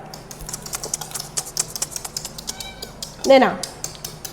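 A single kitten meow rises clearly near the end, over a steady run of light clicking and tapping close by.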